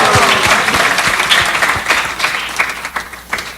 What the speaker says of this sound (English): Everybody clap for Shama Kishore.